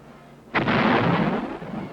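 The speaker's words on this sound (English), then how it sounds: "The tanks move up to new positions nearer the ridge and continue to blast away at the communist emplacements." Tanks fire on communist emplacements near a ridge in the Korean War in 1951. One heavy, booming blast hits suddenly and rolls into a long, rumbling roar that slowly fades.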